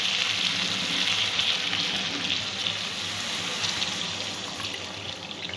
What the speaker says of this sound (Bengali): দু এক মিনিট কষানোর পরে পরিমাণ মতন জল দিয়ে দিই।